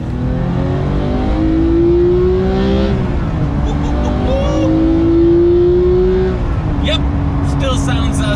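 A Porsche GT3 engine revs hard under load, rising through the gears with sharp shifts and a loud, high mechanical wail heard from inside the car, with a voice speaking over it.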